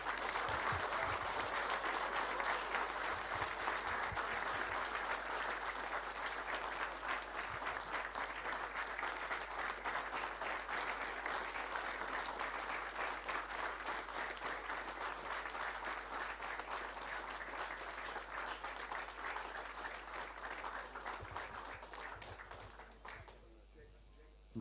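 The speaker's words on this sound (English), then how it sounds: "Please, a warm round of applause for Scotland's Anthony McGill." Sustained audience applause at the trophy presentation of the 2017 Indian Open snooker final, a dense, even roar of clapping filling the hall for over twenty seconds before fading out at the end.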